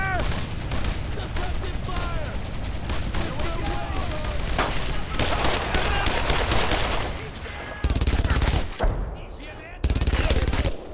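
Dense, loud gunfire from the World War II video game Brothers in Arms, with rapid rifle and machine-gun bursts layered continuously and booming reports, and shouted voices mixed in among the shots.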